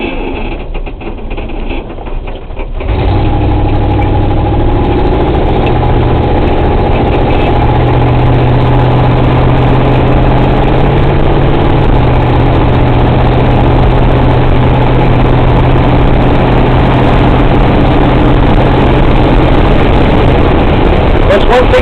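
A Mercury Comet GT with roughly 340 horsepower and points ignition idles steadily and loudly after a brief quieter start, its low, even rumble holding close and constant throughout.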